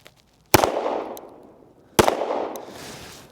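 Two loud, sharp gunshots from a Springfield Prodigy DS Comp pistol ring out about a second and a half apart, each with a long echoing tail, at an outdoor range.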